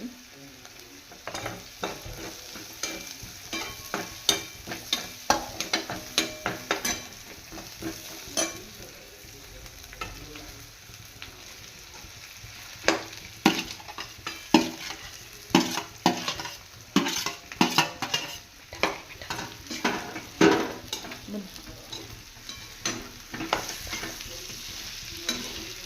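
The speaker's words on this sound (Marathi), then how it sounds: "छान भाजून घ्यायचा आहे हा मिरची" Green chillies roasting and being stirred in a pan for kat vada masala: steady sizzling and frying with repeated scraping and clinking of a spoon against the pan, close and continuous.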